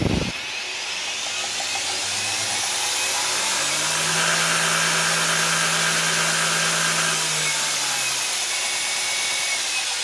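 A homemade big belt grinder driven by a motor on an inverter runs up to speed, a loud, steady whirring drone with a rising tonal hum in the middle, close and alone.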